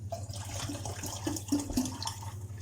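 Water is poured into a teapot for brewing tea, a soft, close trickling and splashing of liquid over a low steady hum.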